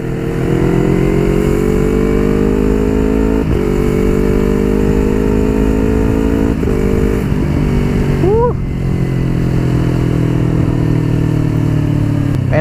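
A 2019 Yamaha R25 motorcycle on a road test ride roars loudly up close, its engine pitch climbing through the gears with quick shifts, dipping and rising again as it accelerates and eases off.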